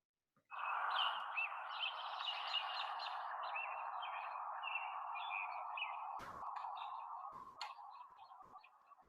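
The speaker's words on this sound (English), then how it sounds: "all that chipping noise at the end there. That kind of tells you there's a bunch of robins" A flock of American robins keeps up a busy stream of sharp, high chips and calls, layered over a steady background hum, with a few knocks near the end.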